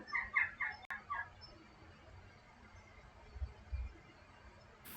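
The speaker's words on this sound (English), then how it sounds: "That was a very loud bird." A loud bird squawks in a short burst of several harsh, rapid honking calls up front, followed by quieter rustling and low background rumble, with no talking over it.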